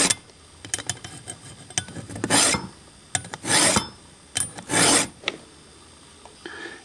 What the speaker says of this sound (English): we're ready to commence filing the other way